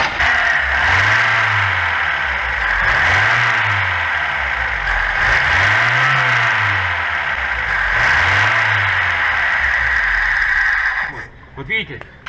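A car engine idles and is revved four times in a regular rhythm, each rev rising and falling, loud and close, before it cuts off near the end.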